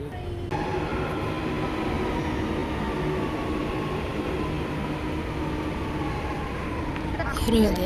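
Inside a moving train: a continuous rumbling roar with a steady hum, constant throughout, rising slightly at the very end.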